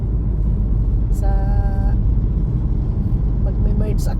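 Heavy highway traffic near Champlain Bridge in Montreal rumbles as a constant low drone, with a brief tonal whine and soft voices over it.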